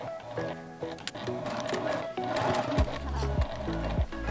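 A sewing machine stitches around the pocket of a small fabric pouch at a 2.5 mm stitch length, with a close mechanical whir that pauses and restarts at the corners while a voice talks over it.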